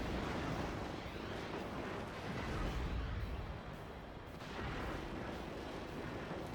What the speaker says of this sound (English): The Sentinel turret laid off its volley, and here comes the Abrams.